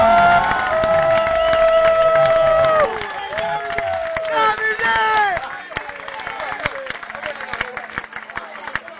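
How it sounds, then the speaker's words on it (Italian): A concert crowd at a show in San Vincenzo Valle Roveto bursts into loud applause and cheering, with voices rising over the clapping. After about three seconds it thins to scattered claps and murmuring. "fatevi un applauso da soli da parte nostra"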